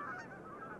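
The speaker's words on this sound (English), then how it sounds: "The calls of migrating geese proclaim a change of seasons." Migrating geese give brief honking calls over a lake, faint and distant, lasting under a second with no talking.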